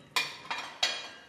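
Bowls clink during dishwashing in a home kitchen, three sharp bright knocks spaced evenly over about a second, close and clear with little else around them.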